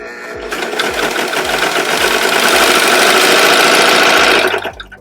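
A serger sewing machine runs continuously at speed while stitching along a napkin edge, producing a loud, steady mechanical whir with a rapid rhythmic thump, then slows and stops near the end.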